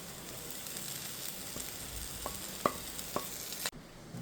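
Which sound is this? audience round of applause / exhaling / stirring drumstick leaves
stirring drumstick leaves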